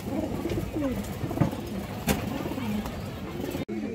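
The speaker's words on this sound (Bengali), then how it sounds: "এটা কিন্তু নর দর্শক, দুটোই নর কবুতর মাশাআল্লাহ" Several male pigeons coo repeatedly in a rhythmic, rolling pattern, close and fairly loud, with other birds audible at a pet pigeon seller's loft.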